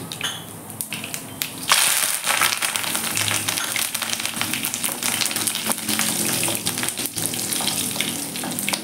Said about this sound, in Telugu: ఆయిల్ వేడెక్కింది, ఆవాలు జీలకర్ర వేసేద్దాం.